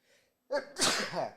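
A single close, loud human sneeze with a short intake breath just before, bursting out sharply and trailing off, with no talk over it.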